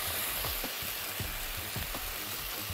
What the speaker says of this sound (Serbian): Stavit ćemo je da se prži, to jest peče.